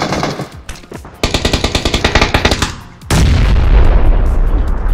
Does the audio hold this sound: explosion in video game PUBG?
yes